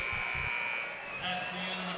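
A sustained electronic game buzzer sounds in a basketball arena as a shot drops at the buzzer, under an excited commentator's voice and crowd noise.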